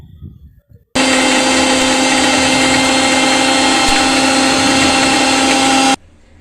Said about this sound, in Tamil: இப்போ அரைச்சி எடுத்துக்கலாங்க